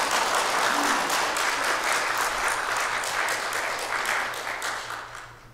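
A church congregation at a Korean Sunday service claps in unison, giving full, steady applause that fades out toward the end.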